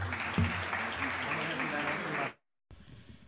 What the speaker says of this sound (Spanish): Un cálido aplauso para ellos y feliz Navidad a todos.